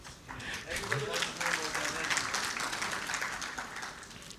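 Audience applause during a speech at the Antigua Citizenship CEO Summit in Islamabad, a steady wash of clapping from a seated crowd that swells and holds for several seconds.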